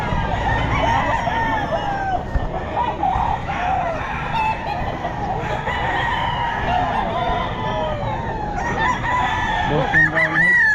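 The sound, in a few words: Boston Roundhead rooster crowing at Bocaue pet market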